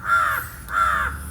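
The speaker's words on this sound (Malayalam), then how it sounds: "ചിലപ്പോൾ നിങ്ങൾക്ക് കാക്കയുടെ സൗണ്ട് കേൾക്കാം" Crow cawing near a boating spot by the water in Chennai: two loud, harsh caws close by with a short gap between them, alone over a faint outdoor background.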